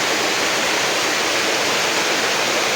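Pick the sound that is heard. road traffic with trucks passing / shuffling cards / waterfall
waterfall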